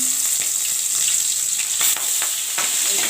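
Tangra fish sizzle and spit as they fry in spiced oil, a steady close hiss with a few sharper crackles and pops and no voices.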